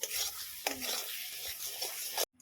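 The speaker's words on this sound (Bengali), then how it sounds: "ওপর থেকে আবারও কিছুটা ঘি ছড়িয়ে দিয়ে মেরে চেড়ে নিয়ে এটাকে আমরা নামিয়ে নেব" A spoon stirring sooji halwa with ghee in a pan, a soft, close scraping and gentle sizzle with a few sharper strokes, ending abruptly in silence.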